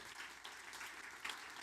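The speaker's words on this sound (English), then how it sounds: "Big round of applause." Audience applause fills a live tech conference stage event in Chicago, a dense steady wash of clapping that swells slightly near the end, loud and continuous throughout.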